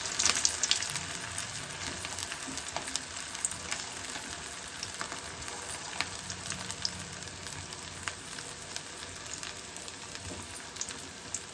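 Potato balls fry in hot oil over a low flame, a steady close crackling sizzle with occasional small pops and light stirring, no talking.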